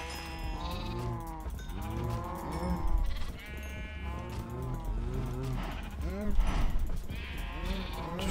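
Cows in the Minecraft video game moo again and again, several low, drawn-out calls overlapping one after another at steady volume, with no talking.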